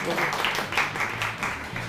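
An audience claps briefly for guests from Gilgit at a street interview in Karachi. The scattered clapping is short and moderately close, with some voices mixed in.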